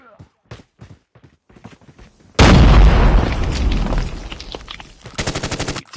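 A grenade blast from Call of Duty Mobile erupts as one loud, close boom after a few short bursts of gunfire. The explosion rumbles and decays for a couple of seconds, then a rapid burst of automatic fire closes the moment.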